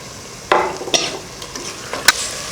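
Ginger garlic paste being stirred with tomatoes in a pan for egg biryani, with a low sizzle underneath and a few sharp scrapes and clinks of the spoon against the pan.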